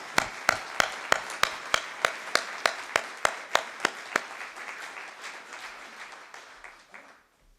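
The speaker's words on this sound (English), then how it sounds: "let's really give him a round of applause while he's walking up here for that award" Applause greets an award winner walking up at an awards event: loud, regular, evenly spaced claps stand out over a softer crowd clapping, and the sound tapers away to near silence at the end.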